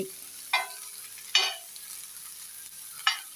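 Fish fries in a pan with a faint steady sizzle, broken by three brief louder spatters as the pieces are turned and stirred.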